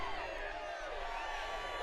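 A crowd gathered on a field rallies for war, a dense, steady roar of many raised voices shouting together that stays loud throughout the short stretch.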